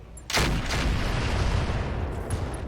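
Mech weapon fired in X2 mode in RogueTech, a loud close blast followed by a quick second report, then a long rolling rumble that slowly fades.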